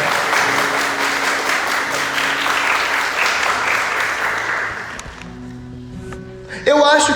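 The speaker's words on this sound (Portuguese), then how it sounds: "Vamos aplaudir com força a palavra de Deus." A church congregation applauds loudly and continuously for about five seconds, a dense wash of clapping that fades out before speech and a sharp noise at the end.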